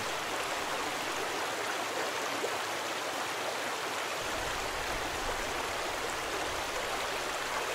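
A mountain stream in Grundarfjordur, Iceland, rushing steadily, a constant broad hiss of flowing water close by with no pauses.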